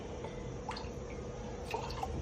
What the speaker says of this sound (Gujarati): આમ જો તો ખરા અવાજ આવે પાણીનો